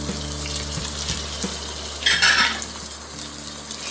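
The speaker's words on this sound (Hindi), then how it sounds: "अब इसको भी हम 1 मिनट तक फ्राई करेंगे।" Whole garam masala frying in hot oil in a kadai for a mutton paya dish: a steady soft sizzle with a brighter crackling burst midway, a few light scrapes of stirring, and a low hum underneath.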